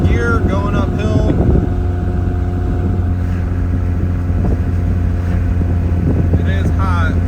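Engine of a 1988 Toyota 4Runner pulling uphill in fourth gear, a steady loud droning hum with constant wind and road rumble throughout.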